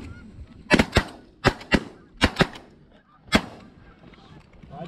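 Shotguns fire at geese during an early-season goose hunt in Wisconsin, a rapid volley of about eight loud, close blasts from several hunters in quick clusters, each ringing out briefly over quiet outdoor background.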